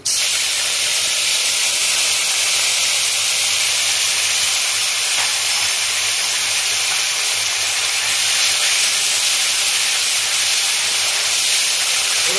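Onion paste going into hot oil already seasoned with whole dried red chillies, bay leaf and turmeric, for a tilapia fish curry, gives a loud, steady hiss that holds evenly throughout without a break, with no talk over it.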